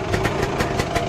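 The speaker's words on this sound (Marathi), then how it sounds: "आपल्यासाठी त्यांनी स्कूटर चालू केली आहे आणि ती अजूनसुद्धा चालू कंडिशनमध्ये आहे." A running 1973 vintage scooter engine at a vintage vehicle show in Mumbai, putters steadily at idle with a faint rhythmic pulse, close and fairly loud, with no talking.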